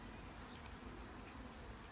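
A steady, dense buzz of many Carniolan honeybees humming together, continuous and fairly close, with no voices.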